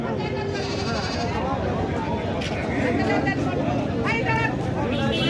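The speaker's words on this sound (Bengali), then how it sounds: "দেশি অরিজিনাল দেশি ছাগল কিনতে চলে আসুন তাহেরপুরের হাটে" Native goats bleat at the Taherpur goat market in Bagmara, Rajshahi. Several wavering bleats, some near and some farther off, rise over a constant murmur of crowd chatter and talking.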